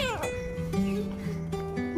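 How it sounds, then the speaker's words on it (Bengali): A tiny, very young kitten meows up close in a few drawn-out, wavering cries, one after another. "এই পুচকু বিড়াল ছানা"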